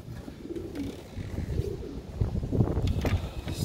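Pigeons in a loft aviary with young birds, giving soft low coos and bird calls over a steady background murmur, moderately close and continuous throughout.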